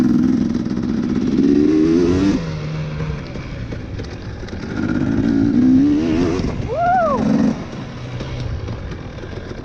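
A Honda CRF150R dirt bike engine runs on a track, loud and close, rising and falling in pitch through revs and shifts with a strained whine near the end; no talk.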